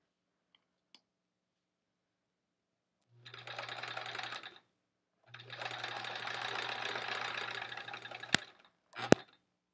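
A sewing machine stitches quilt pieces in two quick runs of fast rhythmic whirring, the second one longer, with a few sharp clicks after it in an otherwise quiet room.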